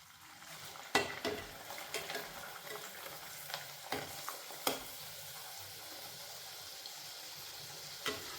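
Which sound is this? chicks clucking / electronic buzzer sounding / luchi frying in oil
luchi frying in oil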